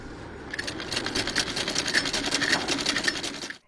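Sewing machines whir steadily in a women's stitching and embroidery training centre, a continuous mechanical hum with rapid rhythmic needle clatter, running close and loud for about three seconds before stopping abruptly.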